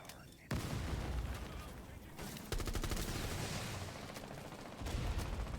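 Gunfire in a competitive video game match, with sustained bursts of rapid shots that cut in and out, heard faintly beneath a commentator talking over the action.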